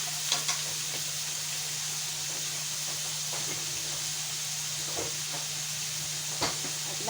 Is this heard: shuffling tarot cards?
no